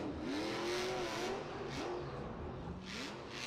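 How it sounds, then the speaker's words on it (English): The Monster Mutt monster truck's engine screams at high RPM in first gear, with a suspected transmission problem, a loud sustained whine rising and falling over crowd-like noise. "He's in first gear, Scott. I think he might have some transmission issues. That thing is really singing"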